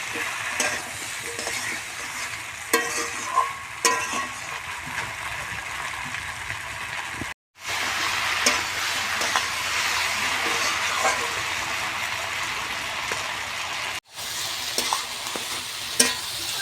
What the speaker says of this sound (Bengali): মশলার সাথে লতিটা ভালোভাবে যে কষিয়ে নিয়েছি